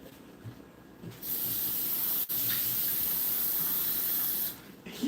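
Kitchen tap water gushes into a glass for about three seconds as a loud, close, steady hissing rush with a brief break, then shuts off; no one talks.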